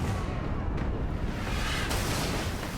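Ship cannons fire in Pillars of Eternity 2, a dense roaring barrage of booms and rumbling blasts that fills the whole stretch loudly without pause.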